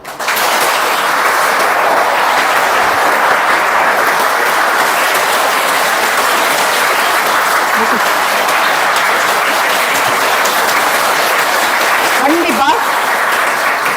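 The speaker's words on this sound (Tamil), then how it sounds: "ஒரு பெரிய கைத்தட்டல் தட்டிக்கோங்க" Big, sustained applause from an audience of students at a talk on women's safety, a loud continuous roar of clapping without a break, with a voice briefly rising above it near the end.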